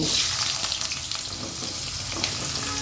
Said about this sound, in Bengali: এখন আমি এই তেলের মধ্যে আলুটা ভেজে নেব